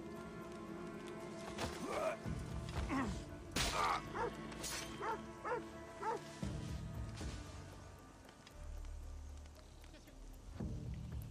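A dog in the Assassin's Creed Odyssey video game barks in a string of sharp yips and woofs, moderately near, over game sounds with occasional clanking, then falls quiet into a low rumble.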